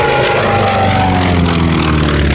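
World War II era warbird flying a low strafing pass over the infield at the Rumble Over the Redwoods airshow, a loud, close propeller engine roar that drones steadily throughout.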